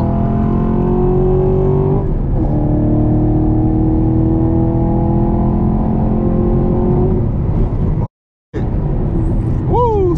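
A Camaro 2SS 1LE with a six-speed manual roars under hard acceleration, engine pitch climbing steadily through each gear, then dropping at shifts before pulling again, loud and close from inside the car, with a brief cut near the end.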